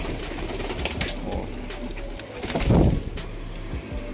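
BNR racing pigeons cooing in a loft, low soft coos repeating against steady background noise, with one louder burst of cooing near the end and a brief spoken exclamation.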